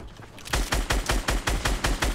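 Rapid automatic gunfire in the video game Fortnite, about a dozen evenly spaced loud shots fired in one quick burst, close and with no talking.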